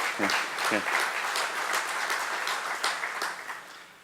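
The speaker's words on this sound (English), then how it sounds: "you can clap if you like" Audience applause fills a breakfast event for the RV industry, a steady wash of clapping that fades slightly toward the end, with a couple of brief voices cutting in near the start.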